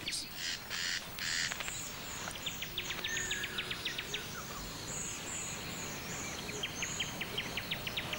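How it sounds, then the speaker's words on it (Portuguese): Several bird species call through a forest, with crow-like caws and repeated chirps and trills layered over a faint insect hum, moderately distant and steady. "Várias espécies de pássaros se preparam para formar suas famílias."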